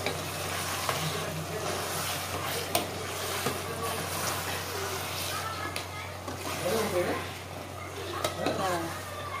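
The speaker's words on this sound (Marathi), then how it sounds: "ह्याच्यामध्ये मी अद्रक लसूणची पेस्ट, हिरवी मिरची, कोथिंबीर, पुदिना हे टाकून घ्यायचं" Ginger-garlic paste, green chilli, coriander and mint being stirred and fried in a pan for chicken pulao, a steady low sizzle with scraping strokes beneath a constant background hum.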